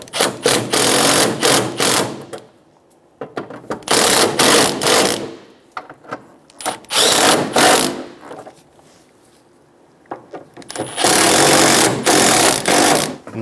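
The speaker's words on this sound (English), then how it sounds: "Get the bolts started. Snug the bolts down." Ratchet or power driver snugging airbox bolts on a 2005-2015 Toyota Tacoma with the 2.7L four-cylinder, heard as several loud, close bursts of rapid mechanical whirring separated by short pauses.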